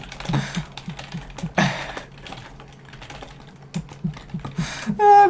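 Rapid bursts of computer keyboard typing during a chat in an online duel game, close and crisp keystrokes in uneven clusters, ending with a brief chime-like tone.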